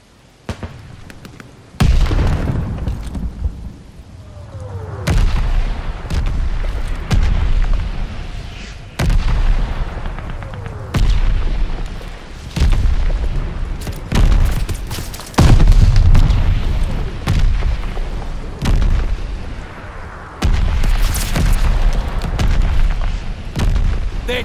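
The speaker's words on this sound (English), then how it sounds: "Friendly mortar fire coming." Friendly mortar fire in a war video game lands as a string of heavy booming explosions, loud and near, repeating every few seconds over a continuous low rumble of battle.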